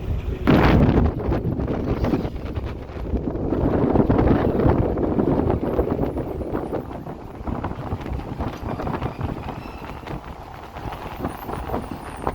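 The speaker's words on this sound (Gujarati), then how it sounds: "સાપુતારામાં બહુ પવન આવે છે બહુ ઠંડો પવન" Strong, cold wind sweeps across the hill station of Saputara, battering the microphone with a loud low roar that surges at the start, swells again, then eases a little; no one speaks.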